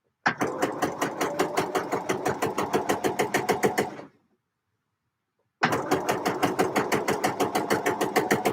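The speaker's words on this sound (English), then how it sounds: "So I need to sew my other one down" A sewing machine stitches fabric in fast, even mechanical bursts, running loud and close for about four seconds, stopping for a moment of silence, then starting again at the same steady pace.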